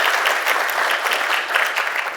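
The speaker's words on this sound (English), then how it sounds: "If you can give them a round of applause for their time and their efforts for being with us." A short burst of applause for speakers at a meeting, dense and even, clapping from a room of people without any speech.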